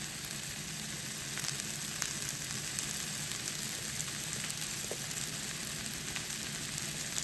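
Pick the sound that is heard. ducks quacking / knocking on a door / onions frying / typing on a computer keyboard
onions frying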